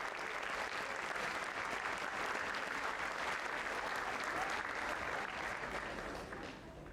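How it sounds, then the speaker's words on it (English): At a high school senior recognition night, an audience gives sustained applause for AP Capstone Diploma students: dense, even clapping for several seconds that fades out at the end, with faint voices underneath. "one final applause for our AP Capstone Diploma students."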